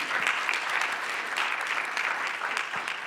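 An audience at an institute anniversary and mental health symposium claps steadily for about three seconds, a moderate, even wash of applause with no voices on top.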